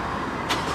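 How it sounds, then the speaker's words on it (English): A 2016 Jeep Grand Cherokee Limited, started by remote on a hot day, gives one brief burst as the engine catches, rising above a steady vehicle rumble. "Let's see if it cranks up."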